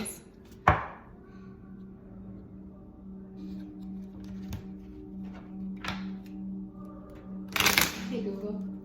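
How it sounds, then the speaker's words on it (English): A deck of cards being shuffled in a few separate riffles and snaps spread over several seconds, with a low steady hum running underneath. "Gonna give it 3 shuffles"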